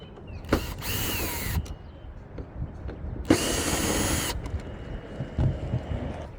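A power drill backs screws out of the hinge on a MaxxAir RV roof fan: two loud, close whirring bursts with clicks and handling knocks between them.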